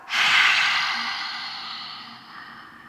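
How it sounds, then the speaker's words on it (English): A long, slow breath pushed out through the mouth during a core breathing exercise, close and soft. It swells quickly and then tapers gradually over about three seconds, with no talking. "And long and slow breath out."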